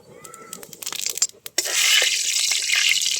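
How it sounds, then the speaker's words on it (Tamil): Cooking oil poured into a pan for Tamil-style crab masala, starting as a light trickle then becoming a steady, loud sizzling hiss that fills the second half without pause. "எண்ணெய் ஊற்றிக்கலாம்"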